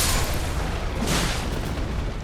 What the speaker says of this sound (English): that huge explosion will actually allow you to take out multiple enemies if they're gathered around